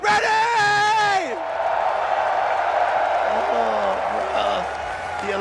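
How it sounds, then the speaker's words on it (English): An arena crowd at the Evo 2024 fighting game finals roars and cheers loudly, with yells and whoops rising over a dense sustained din while a voice shouts over it. "the atmosphere in the crowd is what I live for"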